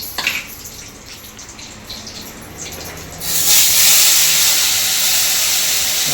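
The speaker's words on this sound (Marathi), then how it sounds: "की मसाला जो वाटून घेतलेला आपण तो तेलात फ्राय होतोय" Ground masala sizzling in hot oil for a homemade egg curry tempering with curry leaves, a steady bright hiss that starts softer and swells louder halfway through, then holds continuously with no talking.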